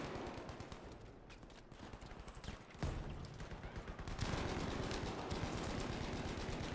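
Gunfire from a gun in Battlefield V, a fast rattle of shots that grows louder and denser after a sharp blast midway, with battle noise all around.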